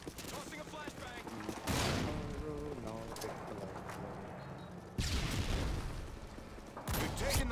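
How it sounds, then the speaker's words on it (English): A flashbang grenade goes off in a Modern Warfare 2 multiplayer deathmatch, with sharp loud bursts and crackling blasts amid ongoing gunfire and game noise. "Tossing a flashbang."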